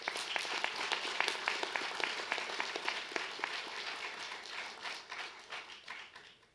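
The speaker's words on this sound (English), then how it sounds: "Let's give a round of applause in thanks and appreciation to those people" Audience applause at a university engineering and IT graduation ceremony: dense, steady clapping from a crowd at moderate distance, holding strong before thinning and fading out toward the end.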